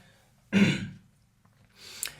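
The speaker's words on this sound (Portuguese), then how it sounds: "Deixa eu dar um pigarro" One short, rough throat clearing, close and fairly loud, then a quieter breathy noise after a pause. No speech.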